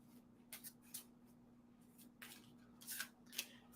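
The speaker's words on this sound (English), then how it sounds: "Get the cool cards shuffled up." Several quick, crisp riffling bursts of cards being shuffled, faint and close, with short pauses between them.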